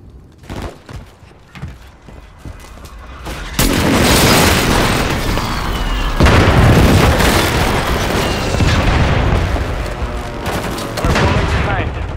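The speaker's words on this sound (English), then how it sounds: "Hostile airstrike near your location." Call of Duty Team Deathmatch airstrike: a run of loud, heavy booming explosions rolls in after a few scattered shots, sustained and close, with brief game voice callouts mixed in.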